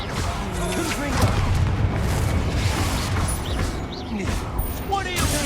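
A Confringo blasting curse explodes in a Harry Potter video game, a deep booming burst layered over continuous game noise and spoken voices.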